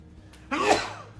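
A single sharp sneeze erupts close to the microphone in a home kitchen during zucchini bread baking, a brief loud burst that fades quickly.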